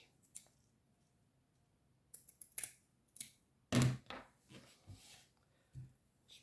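Scissors snip through a paper wedding invitation card in a few short, crisp cuts, with scattered clicks and paper handling between them in a quiet room.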